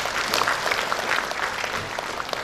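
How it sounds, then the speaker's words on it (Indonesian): A graduation ceremony audience claps steadily together, producing a dense, even roar of many hands that holds without a break from start to finish. "Kita berikan tepuk tangan."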